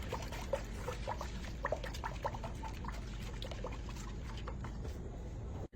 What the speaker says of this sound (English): now go ahead and add in my milk. I have there 1 can of evaporated milk.